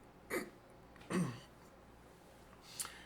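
Two short, breathy coughs a moment apart, fairly close, followed by a fainter catch of breath near the end; no talking.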